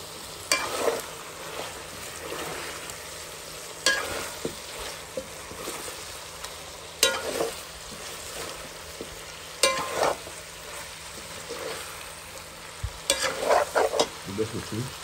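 Chicken frying in a pan and stirred, a continuous sizzle punctuated by repeated loud scrapes and clatters of the utensil every few seconds, growing busier toward the end, with no talking.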